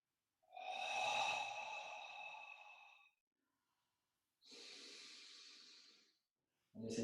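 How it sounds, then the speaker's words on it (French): Long, slow yoga breaths drawn audibly through the mouth in a fitness class: a drawn-out breath of about three seconds, a pause, then a second shorter one, with the start of a third cut off at the end, each steady and fairly loud. "On essaie de faire des respirations assez longues, fluides, avec un beau bruit"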